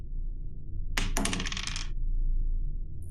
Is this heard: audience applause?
no